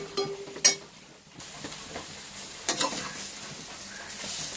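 Bitter gourd sautéing in oil in a pan for a tamarind curry, a soft sizzle under occasional utensil clinks and stirring scrapes, fairly quiet and uneven.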